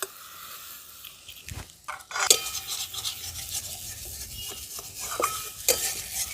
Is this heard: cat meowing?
no